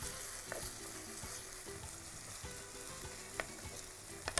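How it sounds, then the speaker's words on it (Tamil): Onion, tomato and green chillies sauté in oil in a pan with a constant soft hiss, broken by occasional light scrapes and taps of a stirring spoon, fairly quiet and close. "இதில் வந்து பச்சை மிளகா காரத்துக்கு 3 பச்சை மிளகாயை போட்டுறேன். போட்டு நல்லா வதக்கலாம்."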